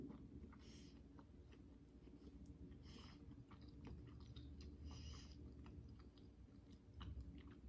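A McGriddle-style muffin of pancake batter, sausage and maple is chewed close to the mic with soft, moist, repeated mouth sounds and occasional small smacks, quiet over a low steady room hum.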